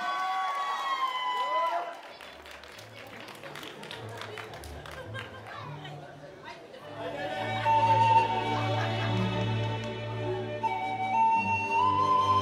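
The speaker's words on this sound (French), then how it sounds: "je vous prie de faire un tonnerre d'applaudissements pour le Hobbit et le Nazgûl de The Lord of" Audience at a cosplay contest at Geetaku 2018 bursting into applause and cheering after an amplified announcer speaks, a crowd roar rising with music in the hall.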